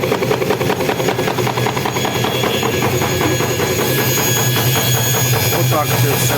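Homemade drum-style feather plucking machine for broiler chickens spinning under motor power, a loud steady rattling and thumping drone with no pauses.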